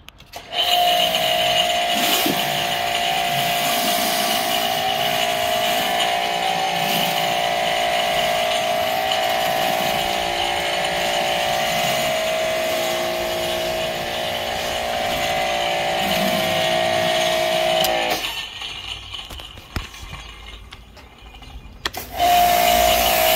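An electric power washer blasts concrete with a loud, steady high-pressure hiss and motor whine for about eighteen seconds, then cuts out briefly before starting up again.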